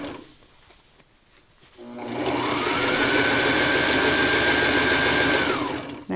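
A Sailrite Ultrafeed LS sewing machine stitches cording into umbrella fabric, its rapid even mechanical chatter starting after a quiet moment and running steadily for about four seconds before slowing to a stop, close and clear.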